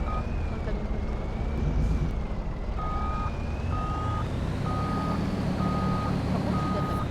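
Truck reversing beeps from the video game Farming Simulator 25: a steady series of evenly spaced electronic beeps, about five in a row, over a constant engine drone.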